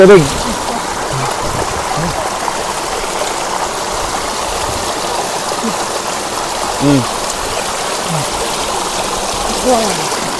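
Water poured over a person during a bath, a continuous splashing stream close by, with voices talking intermittently over it.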